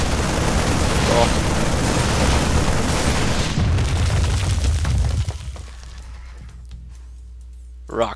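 Rocks crumbling apart in a StarCraft 2 Heart of the Swarm Protoss versus Terran match, a loud dense roar of rumbling crashes and explosive bursts for about five seconds, then fading to a quiet low hum with one small final thump.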